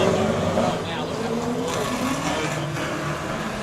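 A drift car engine running rough during a Superdrift race roars and drones unevenly across the track, loud and steady, with a commentator talking over it.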